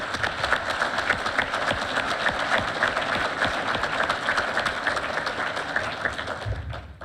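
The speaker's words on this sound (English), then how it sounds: "giving these individuals a well-deserved round of applause" A crowd applauds at a graduation and recognition ceremony: dense, sustained clapping from many hands that stays steady for several seconds and thins out at the very end.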